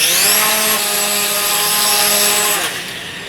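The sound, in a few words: Dromida Vista micro motor test run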